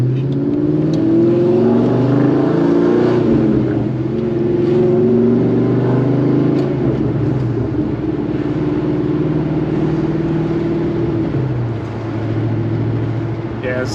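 A car rolls steadily along a rough road after a suspension change, its engine hum and tyre rumble continuous and close throughout, with bumps and thuds from the uneven surface; someone talks briefly over the drive.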